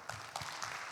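A brief stretch of audience applause welcoming a speaker to the lectern at a book discussion, a dense, steady patter of many hands clapping with no talk.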